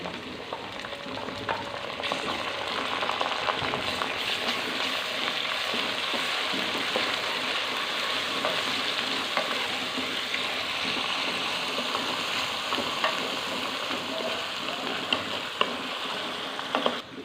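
Ginger-garlic paste sizzling in hot oil, a dense, loud, continuous frying hiss with occasional pops and stirring noises, nearby and unbroken.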